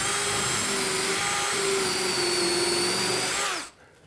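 A power drill runs at a constant whirring pitch for a few seconds drilling holes in wooden boat planking, then spins down and cuts off, leaving near silence.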